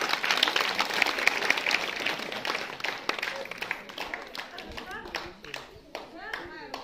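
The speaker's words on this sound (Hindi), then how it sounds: "इनके लिए जोरदार ताली।" An audience at a school Independence Day event claps for a student, brisk applause that fades after a few seconds, with a voice speaking over the later part.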